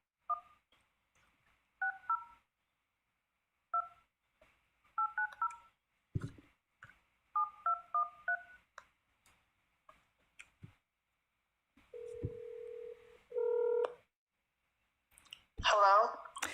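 Phone keypad dialing a call, a series of short, quiet touch-tone beeps in irregular bursts, followed by steady ringback tones and a brief burst of sound at the end.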